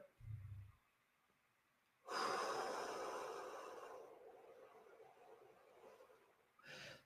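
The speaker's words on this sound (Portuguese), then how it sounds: "Inspira forte, segura e depois solta lentamente." Deep breathing exercise: a slow, loud inhale, followed by a long, gradually fading exhale, then the start of another breath, with no talking.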